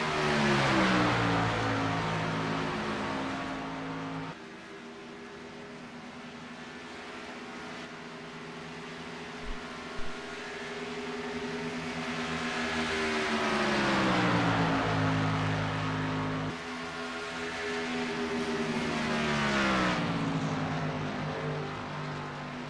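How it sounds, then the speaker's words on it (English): A vintage Grand National stock car at Talladega doing a victory burnout, loud sustained engine drone that rises and falls in long sweeps, with shifts in pitch and brief pauses between surges. "Kyle Dean will come around due to his victory burnout"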